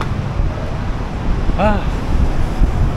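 Strong wind roars and buffets steadily in a loud, broad rumble, high up on an elevated MRT line in Manila, with one brief vocal sound about halfway through.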